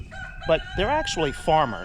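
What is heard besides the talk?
chickens and rooster crowing on a homestead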